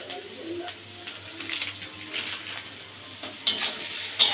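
Spices including cumin powder frying in a pan while being stirred, a quiet continuous sizzle with intermittent scraping and light clinks of a utensil, louder toward the end.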